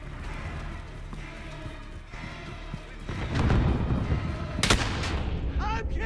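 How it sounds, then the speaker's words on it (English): Steady gunfire and explosions from Call of Duty: Modern Warfare, a dense, loud battle din with a burst of heavy shots near the end, and game voices mixed into the noise. "I'm hit! I'm taking fire!"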